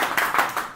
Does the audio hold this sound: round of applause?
yes